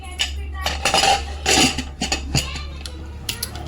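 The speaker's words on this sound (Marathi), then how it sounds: "कुकरचं टोपण लावून देते आता" Metal clinks and clatters of a pressure cooker lid being fitted in a home kitchen while cooking khichdi, several sharp knocks in an uneven sequence, close and fairly loud.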